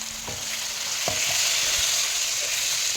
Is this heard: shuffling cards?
no